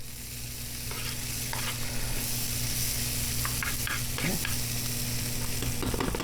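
Food stirred in a hot pan with tomato sauce about to go in, steady frying sizzle throughout with scraping spoon clicks and scrapes, close and alone without talk.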